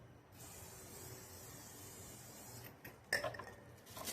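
A steady, faint hiss of liquid sprayed onto a motorcycle chain runs for a few seconds, then stops, followed by a few soft wet clicks and handling noises.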